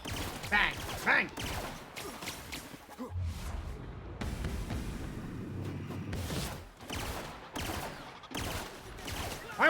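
Weapon fire in The Outer Worlds video game: a string of sharp, loud shots in separate bursts, with a person talking now and then between them.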